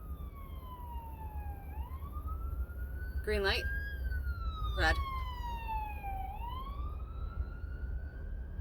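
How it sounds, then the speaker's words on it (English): An ambulance siren wails with slow rising and falling sweeps, steady and fairly prominent, while a person briefly speaks over it. "Here comes the ambulance."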